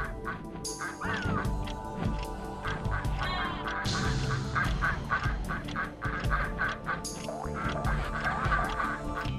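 Many ducks quack over and over in a ring in the video game Frogger, a dense, loud, overlapping chorus of honking calls above steady game music, with no talk.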